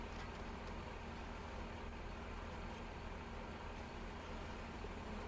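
Quiet, steady rumble of truck traffic in a video game, a continuous low engine drone with no talking over it.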